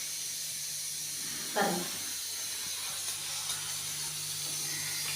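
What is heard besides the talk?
athirasam dough dropped into hot oil, sizzling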